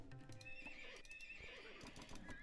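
Horses neigh and whinny in Age of Empires II, several shrill calls overlapping with clip-clopping hooves and busy battle noise, all fairly quiet in the mix.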